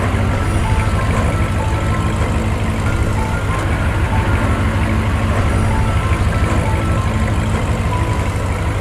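A cartoon vehicle drives up with a loud, steady engine rumble. The drone is dense and unbroken for the whole stretch, with no speech.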